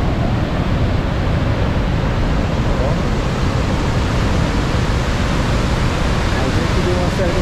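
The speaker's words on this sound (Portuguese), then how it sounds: "devido ao volume de água, a gente está vendo muita água aqui agora está descendo" Iguazu Falls pouring a large volume of water, a steady, dense roar of falling water that fills the whole span without a break, loud and broadband like continuous surf.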